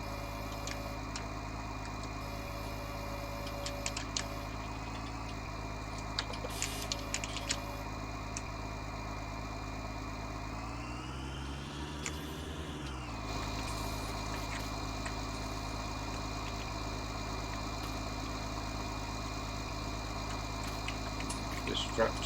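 A tractor engine idles steadily at a low, even hum on a farm during silage work, with light clicks and a brief swell around the middle, while a voice talks over it.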